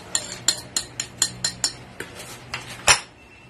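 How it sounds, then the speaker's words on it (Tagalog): Ukoy batter ingredients are stirred in a bowl, and a utensil strikes the bowl's side in a steady series of about ten sharp clinks, close and fairly loud, ending in one harder knock. "Halo na natin yung mga ingredients natin."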